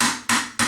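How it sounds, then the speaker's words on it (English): A hammer taps a punch to drive out the body pins of an airsoft gun: three sharp, close metallic strikes, evenly spaced and each ringing off quickly, with no voices. "I'll just use this guy and a hammer."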